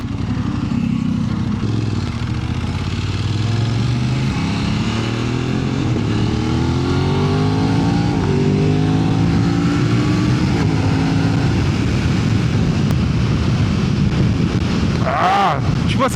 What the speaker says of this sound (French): c'est sur les petites accélérations comme ça, tu sens que la moto elle est pas à son niveau maximum